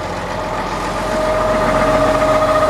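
A Detroit Diesel 6-71 sawmill engine idles steadily with a deep, even rumble and a faint tonal whine, close by and unbroken.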